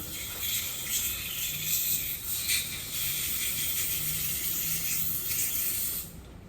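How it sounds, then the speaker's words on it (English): A Graco GX-7 paint spray gun hisses out in a steady, continuous spray with brief flutters while being flushed after concrete lifting, close up, cutting off near the end. "I'm just going to spray out the front of this gun."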